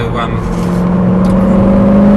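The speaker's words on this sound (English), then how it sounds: "so you can hear a bit more of the engine sound" A SEAT Ibiza Cupra engine revs, humming steadily with a sustained drone that rises slightly in pitch, continuous and fairly loud throughout.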